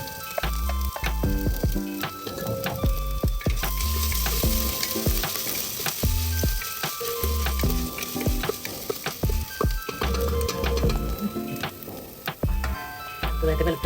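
Cinnamon, cloves and ginger fry in hot oil in a pot for cooker biryani, a steady loud sizzle with clicks of stirring, close by and without speech.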